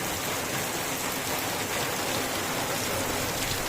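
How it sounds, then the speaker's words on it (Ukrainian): Steady morning rain shower falls as a dense, even hiss of drops on surfaces, continuous and fairly close, with no voices. "І ось у нас такий дощик."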